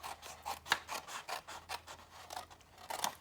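A 12x12 sheet of designer series paper is trimmed with a paper trimmer: a series of short, quiet rasping strokes in an irregular rhythm, close by with no talking.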